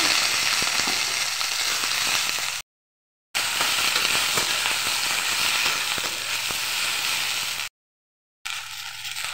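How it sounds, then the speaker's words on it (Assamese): Okra and potatoes fry in mustard oil with a loud, dense, crackling sizzle close by, cut by two brief silent gaps. "এতিয়া ভেন্দি আলু দি দিছোঁ।"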